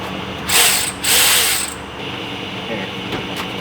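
A ratchet fitted with a deep well socket on a long extension clicks in two close bursts while a timing belt is being replaced on a 2002 Toyota Tacoma, then faint mechanical ticking follows.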